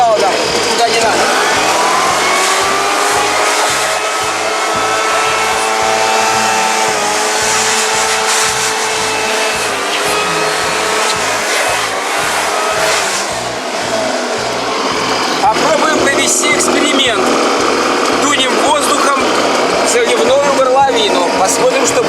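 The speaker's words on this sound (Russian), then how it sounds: "Используем свою воздуходувку для того, чтобы продуть пыль и грязь, которая снаружи есть на двигателе" An air blower hisses steadily as it blows dust and dirt off the exterior of a VW LT35 van's AVR diesel engine in a workshop, a loud, continuous rushing noise that runs throughout with a low pulsing underneath and a voice speaking over it.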